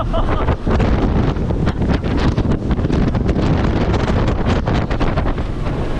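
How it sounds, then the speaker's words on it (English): Strong coastal wind at Cape York, Australia, buffets the microphone in a steady, roaring rush with gusty fluctuations throughout, loud and close. "look how windy it is here"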